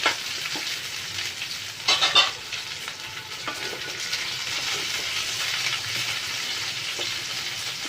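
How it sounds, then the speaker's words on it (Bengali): Chopped onion fries in a pan with a steady, soft sizzle, broken by a few louder bursts of scraping and stirring near the start. "পেঁয়াজ কুচিটা একটু ভেজে নেব।"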